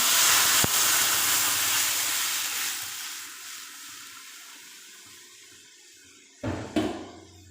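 Dal poured into a pan of heavily fried, nearly burnt spices bursts into a loud, hissing sizzle that slowly fades to a faint simmer, followed by a couple of short clatters near the end.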